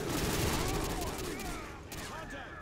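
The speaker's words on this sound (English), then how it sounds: "Pulling a pin out of a grenade just as a flashbang goes off" Gunfire and a flashbang erupt in a Modern Warfare 2 battle, a dense continuous fusillade of shots with muffled ringing tones, loud and close throughout, with voices faintly mixed beneath.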